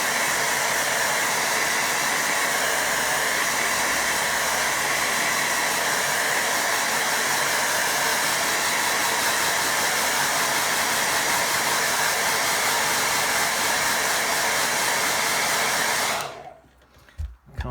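A hair dryer blows a steady, loud, unbroken hiss over a watercolour winter landscape painting for about sixteen seconds, then switches off abruptly.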